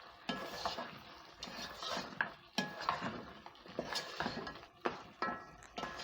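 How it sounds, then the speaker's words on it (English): Beef gets stirred back into a pan in quiet, repeated scraping strokes, with soft clinks of a utensil against the metal over a faint sizzle. "Stir in the meat."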